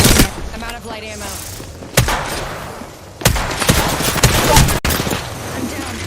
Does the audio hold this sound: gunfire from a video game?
yes